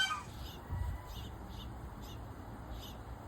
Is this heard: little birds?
yes